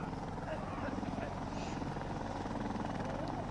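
Helicopter in Insurgency Sandstorm, a steady, loud rotor thumping that fills the scene, with voices talking over it.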